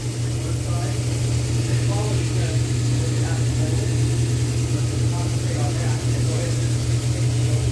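A rock saw blade grinding through a thunderegg to take off a thick slab, a steady droning whine with a low motor hum that holds unbroken throughout, loud and near.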